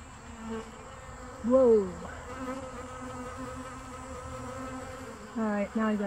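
Honeybees buzz around a bowl of sugar water set with rocks in a dry Massachusetts yard during a severe drought. Individual bees drone close past the microphone in brief passes, with quieter background buzzing between them.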